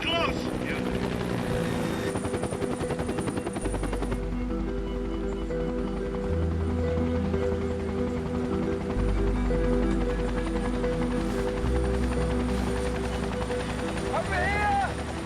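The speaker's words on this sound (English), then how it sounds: "the instant that I hear that helicopter, I snapped to attention" A helicopter flies close by over Hinchinbrook, its rotor thumping in a fast steady chop throughout, with people talking intermittently over the noise.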